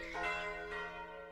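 Church bells in an English village ring with sustained, shimmering tones that swell and slowly fade, faint and somewhat distant, with no one speaking.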